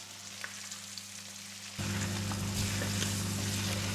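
Baltic herring fry in a pan on medium-high heat, a steady close sizzle that jumps sharply louder partway through and keeps crackling, with no one talking.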